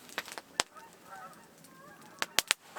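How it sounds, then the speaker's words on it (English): Geese honking in wintry woods, several faint to moderate calls scattered across a few seconds, some distant and others sharper and closer, with quiet outdoor background between them. "Hear the geese?"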